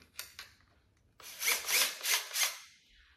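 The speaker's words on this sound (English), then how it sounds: "I'm gonna drill the hole here in the middle of the circle" A cordless drill bores into wood in a few rising and falling bursts, preceded by a couple of light taps; close and fairly loud.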